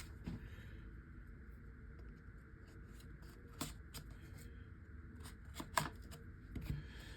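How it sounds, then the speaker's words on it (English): Soft cardboard rustling and scraping as a Beyblade UX Dran Buster box is opened, quiet and close, with a few sharper tearing or clicking flicks in between. "Let me go ahead and open the box here."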